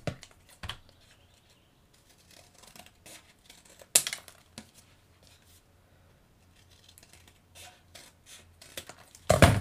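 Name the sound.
scissors cutting paper card template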